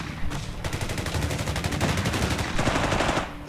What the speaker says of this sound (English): The cowards are shooting at us!